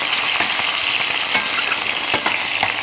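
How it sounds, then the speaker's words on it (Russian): Meat for Irish stew fries in hot oil over high heat with a loud, dense crackling sizzle and occasional sharp pops and stirring clicks throughout. "мы добавляем мясо. Обжариваем на сильном огне."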